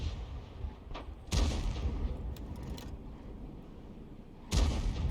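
Enemy tank cannon fire in a tank combat game: two heavy booming shots a few seconds apart, each a sudden loud crack with rumbling tail, over a low battle hum and scattered distant clanks.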